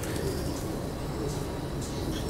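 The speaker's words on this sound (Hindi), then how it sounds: "इसके सारे घर के कबूतर है" Breeder pigeons, home-bred birds kept for pairing, coo softly and continuously in a loft, a low murmuring bed of calls with no talk over it.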